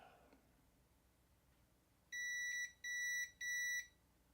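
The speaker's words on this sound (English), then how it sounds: "Let's just do a quick little beep test" Three loud, high electronic beeps from a multimeter continuity test on a circuit board trace in a Neo Geo AES console, each lasting about half a second, with short gaps between them and quiet surroundings.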